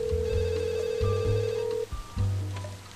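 Telephone ringing in the Leisure Suit Larry 7 video game, steady electronic ring tones repeating in three bursts with brief gaps, loud and close with no talk.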